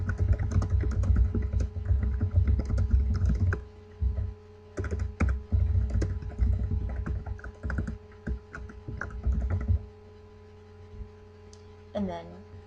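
Quick bursts of keystrokes on a computer keyboard, loud and close, typed in uneven runs with short pauses over a steady background hum, trailing off before a brief tonal chirp near the end.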